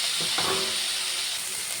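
Chopped tomato, onion and green chillies with salt and turmeric frying in a pan for an egg curry, a constant bright hiss and sizzle with a faint clatter near the start, close and steady.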